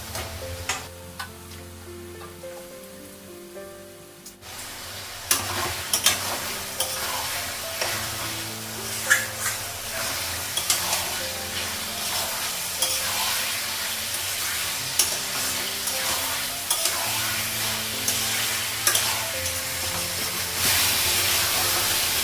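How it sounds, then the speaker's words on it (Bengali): Meat cooks with spices in a pan, starting with stirring and scraping before a loud, continuous sizzle sets in, broken by repeated scrapes of the spoon. "মশলাটা মাংসটা ভালো করে কষে নিয়েছি"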